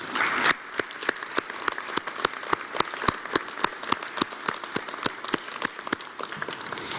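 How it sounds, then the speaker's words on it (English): Sparse, uneven clapping from a small audience at a Pueblo State of the City address, honoring council members, with distinct individual claps in a loose rhythm after an initial brief swell. "please give them a round of applause for all their hard work"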